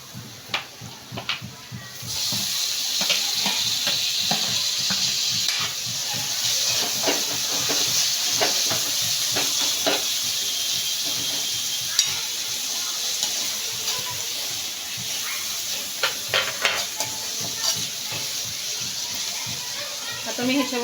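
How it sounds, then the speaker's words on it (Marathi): Finely chopped tomatoes being mixed in a hot sizzling pan for matar paneer, a loud steady hiss with repeated scraping stir strokes, under a voice talking. "आता याच्यामध्ये मी बारीक चिरलेले टोमॅटो घालून घेणार आहे."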